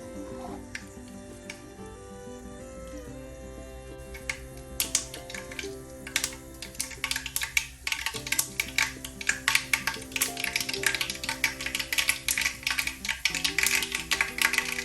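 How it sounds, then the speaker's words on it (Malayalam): Half a teaspoon of mustard seeds splutters in hot oil for a Kerala green bitter gourd stir-fry. Scattered pops start, then build into dense, rapid crackling over soft background music. "കടുക് നന്നായി പൊട്ടുമ്പോൾ"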